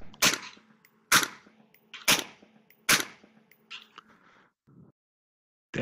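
Four evenly paced gunshots snap in a tactical shooter game, crisp and close at roughly one-second intervals, followed by faint clicks and handling sounds, then a last shot starting at the very end.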